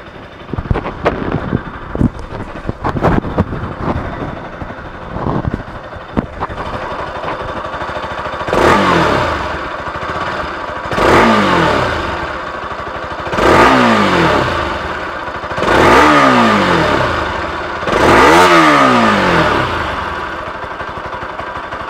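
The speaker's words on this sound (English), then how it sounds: "I would like to show you guys the exhaust note of this bike" A Bajaj Pulsar AS200 motorcycle engine idles, then revs repeatedly in five or six rising, loud bursts, each falling back between throttle blips.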